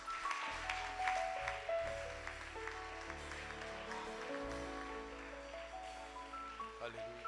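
Worshippers at a church service clap and acclaim the Lord in a sustained, moderately loud round of applause over held keyboard chords, with a voice calling out once amid the clapping.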